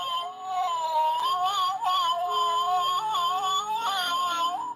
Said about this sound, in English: Wait till you hear the purr.